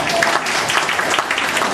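Clapping from an audience at a public question session with a mayor and deputy mayor, a short, dense burst of applause that stays even and fairly loud throughout with no break.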